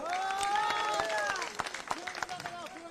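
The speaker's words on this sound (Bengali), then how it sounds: "তাদের জন্য একটা জোরে হাততালি হোক" A crowd claps at a BJP political rally in Goghat's Arambagh area, a brief burst of applause tapering into scattered claps, with someone speaking over it.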